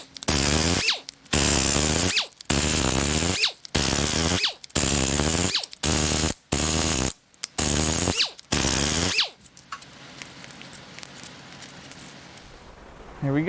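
A power tool spins out head bolts, including external Torx, from the driver's side cylinder head of a blown Infiniti Q50 VR30DDTT 3.0 twin-turbo V6. It runs in about eight loud ratcheting bursts separated by short pauses, followed by quieter clinks.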